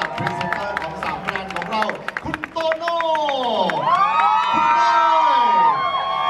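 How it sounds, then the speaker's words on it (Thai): Crowd claps and cheers at the close of a fashion show for the company CEO, with an announcer speaking over the noisy hall. "ขอเสียงปรบมือกับ CEO ของเรานะครับ"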